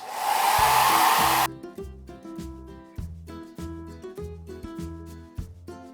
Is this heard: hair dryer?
yes